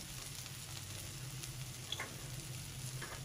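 Fish katakat fries on a tawa with green chillies added, giving a close, continuous sizzle marked by a few small clicks and taps of utensils against the pan.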